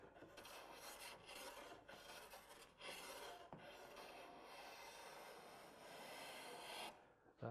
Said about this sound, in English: I'm backing the iron off just to give that final little trim.